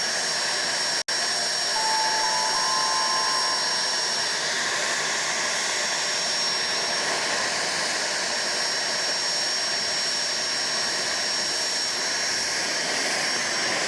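Jet engine on an aircraft running on the ground at Dallas Love Field airport, a loud, steady roaring whine with a high tonal hum that drones continuously for the whole stretch.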